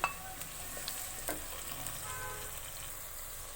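Tomatoes sizzle quietly in a pan on top of lightly sautéed onions for an eggplant bharta. A few small clinks and stirring taps come early over the soft, even frying hiss.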